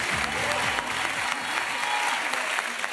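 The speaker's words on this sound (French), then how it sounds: "applaudissements pour Donnel." A comedy club audience applauds a stand-up comedian, a loud, dense burst of clapping that runs without a break for a few seconds, with faint crowd murmur and no talk on top.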